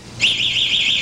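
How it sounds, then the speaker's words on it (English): A Christmas tree fire alarm ornament, triggered by heat, gives a piercing, high-pitched shriek that starts abruptly and holds steady, loud and close, with slight wavering in tone. "This ornament is designed to emit an ear-splitting shriek when the temperature rises past"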